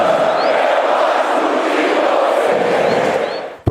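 Dense, steady roar of Flamengo supporters singing together in the stands of a football stadium, a loud sustained crowd chant with no break.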